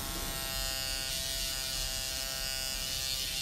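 An electric eyebrow trimmer pen buzzes steadily and continuously at close range, with a high-pitched whine and no talk.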